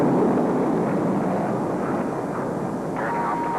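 X-15 rocket research airplane launching: a broad, steady roar of rushing rocket thrust fills the whole stretch, loud and continuous, with a faint higher tone creeping in near the end.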